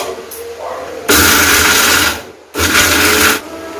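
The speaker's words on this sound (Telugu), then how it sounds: "మిక్సీ పట్టేస్తాను" A mixer grinder whirs loudly in two bursts while grinding coconut chutney, cutting off sharply between runs, with a voice faintly heard in the quieter moments.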